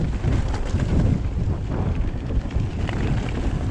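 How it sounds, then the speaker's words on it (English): A strong headwind buffets a cyclist's microphone during a gusty ride, a loud continuous low roar that pulses with each gust. "Doesn't help that I'm into quite a nasty headwind. Or was that just a gust?"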